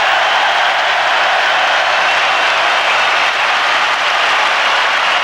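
Rugby crowd at an England v Tonga Rugby World Cup pool match roaring as Jeremy Guscott runs 80 metres; a loud, dense, continuous cheer fills the whole stretch with no break and no talk.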